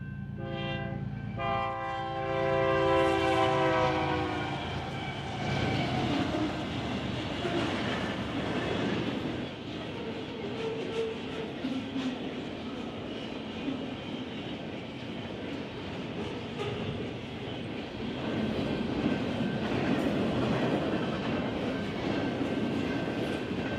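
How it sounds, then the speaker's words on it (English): A BNSF double-stack intermodal freight train on a mainline sounds its horn with a loud blast at the start, then its cars roar past nearby in a sustained rushing clatter of wheels and rails. "on the north track, a BNSF double-stack intermodal rushes past us"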